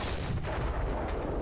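Aircraft cannon firing in War Thunder, a heavy, low booming burst of continuous rapid shots at steady loudness with no pauses, dense and rumbling throughout, with no voices.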